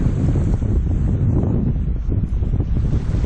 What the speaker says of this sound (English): Out here in the wind.